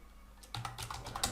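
A computer keyboard is typed on quickly, with a short run of close, quiet key clicks after a brief silent start.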